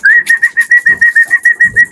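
Pigeons give a rapid, even string of short, whistly coos, loud and close, about a dozen calls in quick succession.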